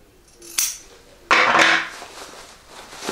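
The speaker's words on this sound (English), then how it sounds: "I am just going to trim those corners a little bit" Scissors snip at the corners of fabric on a sewn messenger bag. There are two close, crisp cuts, and the second is louder and longer.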